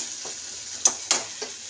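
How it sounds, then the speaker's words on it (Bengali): Ginger and garlic fry in a pan, a soft steady sizzle marked by two or three sharp scraping stirs, heard close with no voices. "আদা রসুনটা ভাজা হচ্ছে, এবার মশলাগুলো তার সাথে দিয়ে দিই"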